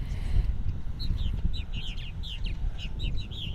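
Purple martins on eastern Long Island call in a quick run of bright chirps and twitters. The calls repeat irregularly over a low rumbling background.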